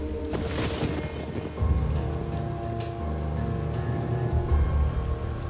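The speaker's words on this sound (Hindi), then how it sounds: "बारिश हो रही है" Steady rain falls near a train station, a dense even hiss with a low rumble that swells a little partway through, no voices.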